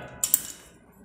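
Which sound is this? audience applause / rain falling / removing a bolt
removing a bolt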